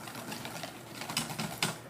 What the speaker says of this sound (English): So then I'm just going to whisk this together.